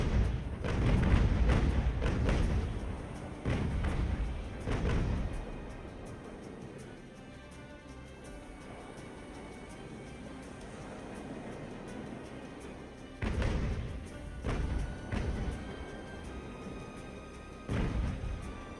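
Grapeshot cannon fire in a naval battle in the game Ultimate Admiral: Age of Sail: heavy booming thuds in clustered volleys at the start and again near the end, separated by a quieter stretch.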